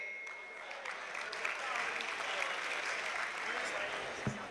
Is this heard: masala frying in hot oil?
no